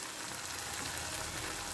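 Potatoes added to a hot pan with spiced yogurt masala sizzle and fry in a steady, even hiss, close and soft, with no talking.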